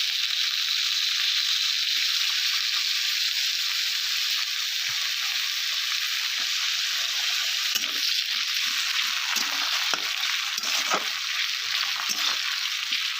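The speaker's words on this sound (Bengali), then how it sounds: "আদা রসুন পেঁয়াজটাকে ভেজে নিয়ে এখানে দিয়ে দেবো টমেটো কুচি।" Chopped tomato hits a pan of frying ginger, garlic and onion, giving a loud, steady sizzle with bubbling and a few stirring scrapes toward the end.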